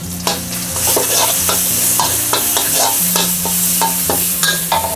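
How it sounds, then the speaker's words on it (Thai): A paste of garlic, coriander root and pepper fries in about two tablespoons of oil over low heat in a pan for chicken noodle soup. A steady close sizzle runs throughout, with frequent scraping stirs and no voices. "ใส่ สามเกลือค่ะลงไปเจียวเลยค่ะ"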